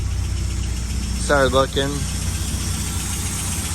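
A truck engine idles steadily, a low continuous hum through the whole stretch, while a voice briefly speaks over it.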